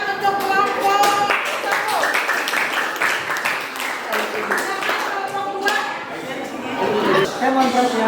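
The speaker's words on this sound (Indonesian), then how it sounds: "Berikan tepuk tangan untuk kelompok" Classroom applause for a student group after their presentation, a dense patter of hands clapping steadily throughout with a little chatter and young voices mixed in.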